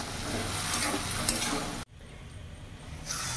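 Green peas ghugni with potatoes being stirred and fried in a pan over a medium flame, a steady sizzle with scraping that cuts off abruptly partway, leaving a quieter hiss.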